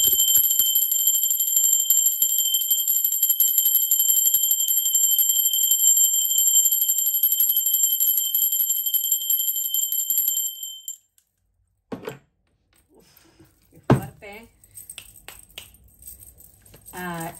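A bell rung once, holding a bright, steady high ring for about ten seconds before it cuts off, followed by a few faint knocks and soft handling noises close by.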